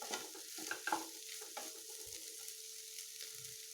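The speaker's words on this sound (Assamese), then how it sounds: "এতিয়া আমি ইয়াক 3-4 মিনিটমানৰ কাৰণে এনেদৰে ভালদৰে সলাই ভাজি ল'ম" Egg and okra (bhindi) stir-fried in a pan, with a steady soft sizzle broken by the scrape and clatter of a spatula turning the mix, all close and moderately quiet with no voices.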